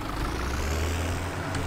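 Tractor engine idling steadily in Farming Simulator 17, a close, constant low diesel drone with a faint hiss on top and no breaks.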